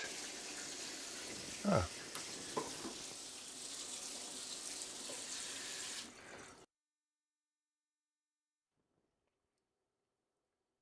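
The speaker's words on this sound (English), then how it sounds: "I'm also gonna rinse the grapes off with cool water" Cool tap water runs steadily over grapes being rinsed in a sink while making moscato wine, a broadband splashing wash for about six seconds with a brief voice, then cutting to silence.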